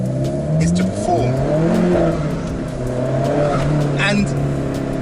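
An Alfa Romeo 4C's remapped 1.7-liter turbocharged four-cylinder engine revs and accelerates in rising and falling pulls, with a sharp turbo-like whoosh near the end, fairly close and loud.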